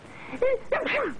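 A person sneezes once, a quick voiced gasp followed by a sharp nasal burst, close and fairly loud in an old 1960s Iranian film soundtrack.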